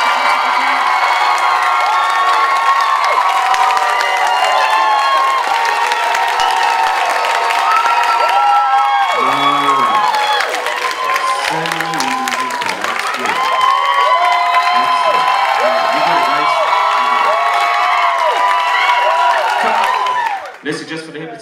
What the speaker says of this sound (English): Each and every time you hear the audience give a massive round of applause